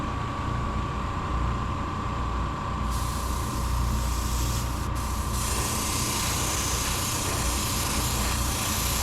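A steady, close hiss of spray paint laying a light coat of pearlized white onto a glide bait, continuous throughout with no talking.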